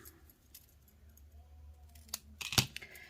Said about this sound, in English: I am going to cut off just a little bit.